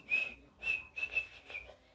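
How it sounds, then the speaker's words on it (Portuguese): Several short whistled notes in a row, clear and close, with brief pauses between them. "Quero que você produza o som com assobios."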